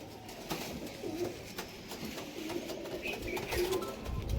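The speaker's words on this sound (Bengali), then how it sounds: "সব টিপলার পায়রা দেখুন কালার করা" Tippler pigeons coo in low, repeated rolling calls against a steady background hum, several soft coos spread across the stretch with no talk.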